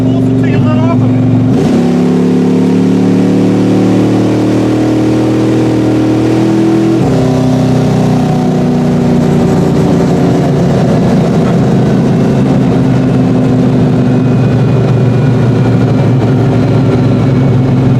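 A 1987 Malibu street rod with a 427 small-block V8 and 400 turbo transmission accelerates hard, its loud low rumble climbing through a gear change and pulling on strongly, with voices talking over it.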